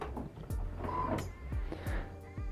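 An Epson Stylus SX425W printer runs its print head alignment, giving off a steady mechanical whir with repeated thumps and brief clicks as the carriage shuttles back and forth, close and moderately loud, with no talking.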